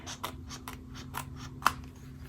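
Scissors trimming a sheet of patterned paper for a Stampin' Up handmade card, a series of short rhythmic snips close by with one sharper cut near the end.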